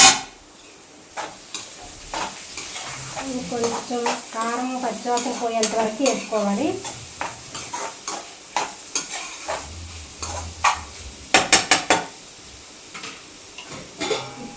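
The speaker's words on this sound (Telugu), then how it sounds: "ఈలోగా ఒకసారి కూర అయితే కలుపుకుందాము." A spoon stirs a broad bean curry frying in a pan, giving soft sizzling and scraping with sharp taps against the metal near the end, while someone speaks over it.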